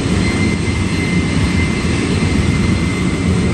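Jet aircraft engine idling at about 5,000 RPM, a loud, steady broadband roar with a low rumble and a faint high whine, heard close up in the jetwash behind the aircraft and holding constant with no talk.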